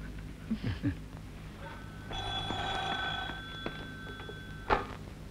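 An indoor telephone rings faintly in a 1986 Indonesian film scene, a thin metallic bell trill lasting a couple of seconds amid quiet room noise, with a few soft background sounds around it.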